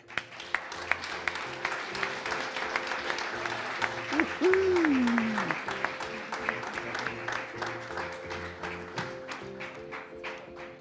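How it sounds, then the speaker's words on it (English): Indoor audience applause for an award winner at an alpine ski World Cup race talk event in Soelden, sustained clapping that swells and fades, with a voice and musical tones briefly sounding under the crowd. "Ladies and gentlemen, please give a round of applause for Federica Brignone."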